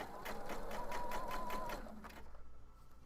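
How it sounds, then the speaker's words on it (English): A sewing machine running close up as it stitches a border onto a crocheted Nintendo 2DS cover, giving a fast rhythmic chatter of needle strokes that slows and stops partway, leaving a quiet room. "We're sewing the border to the 2DS now"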